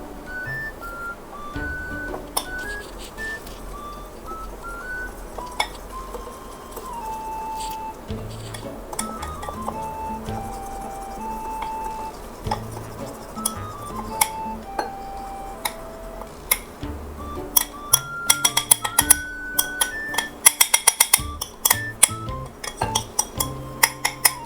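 Dry and wet mango cake batter is mixed in a bowl with repeated light clinks and taps of a utensil against the rim. The clinks grow busier toward the end over soft background music.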